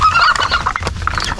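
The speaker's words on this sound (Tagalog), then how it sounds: "Mauni ang akong mga native chicken basilan, pure native basilan." Pure native Basilan chickens cluck and squawk close by in a steady, busy stream of fowl calls with no talking.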